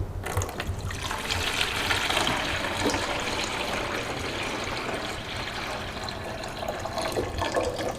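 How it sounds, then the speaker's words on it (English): A whole pitcher of water is poured into the reservoir of a portable countertop ice maker, producing a steady, close, splashing gush that runs for several seconds without speech. "I poured this whole pitcher in and there's still a little bit of room"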